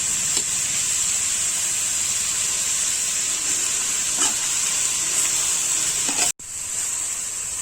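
Minced pork for Northern Thai larb stir-fries in a little oil in a pan, giving a steady bright sizzle and hiss with occasional light stirring taps and a brief cut near the end.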